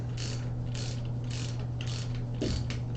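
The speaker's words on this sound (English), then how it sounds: "And now here we're going to have some ratcheting noise." Rapid ratcheting clicks from a bicycle ratchet mechanism being worked during winter bike maintenance, a steady mechanical chatter in pulses over a constant low hum, close and moderately loud with no talking.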